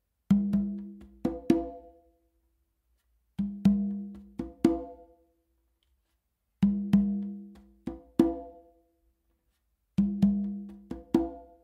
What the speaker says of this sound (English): I'm not sure if you were able to hear the difference in the open tones on the conga